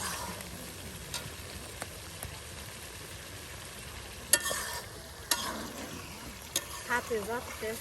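Curry bubbles in a pot during outdoor cooking by a Bede family in Bangladesh, with soft stirring, a faint sizzle and a few sharp metal clanks of a utensil against the pot, under intermittent talk.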